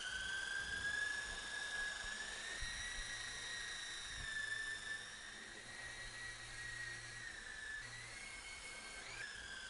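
Small Horizon Hobby RC helicopter electric motors spin steadily, giving a continuous high whine with slight pitch shifts, close and fairly loud throughout with no talking.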